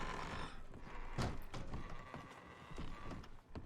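Horse in the Red Dead roleplay game, hooves clip-clopping and thudding around a short snort or whinny, close and fairly soft, with the gear and tack rattling.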